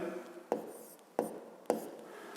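A pen writes by hand on paper during a fifth-grade maths exercise, making quiet scratching with three sharper taps spaced about half a second apart, close and soft.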